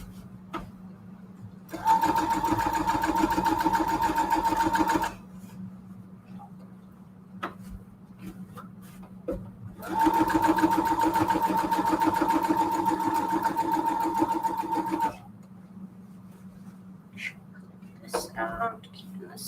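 A sewing machine whirs in two sustained bursts of rapid stitching, separated by quieter pauses with faint background noise.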